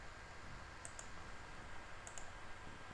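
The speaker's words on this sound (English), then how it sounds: "So if I type this xrandr -- list providers" Quiet keystrokes on a computer keyboard as a Linux terminal command is typed, two short bursts of clicks over a low background hum.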